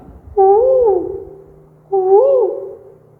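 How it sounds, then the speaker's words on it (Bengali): A koel calls twice, each note a loud, clear, rising-then-falling whistle separated by a short pause, close by and alone. "যেমন কোকিল ডাকে"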